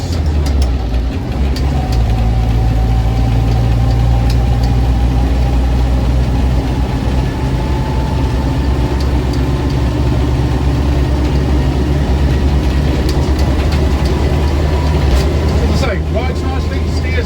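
A Land Rover Series 2A 88-inch petrol soft top drives along with a steady, loud, low engine drone throughout, while someone speaks over the running engine.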